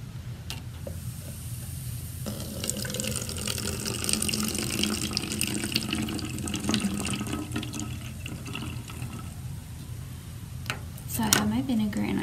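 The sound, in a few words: vinegar being poured into a plastic bottle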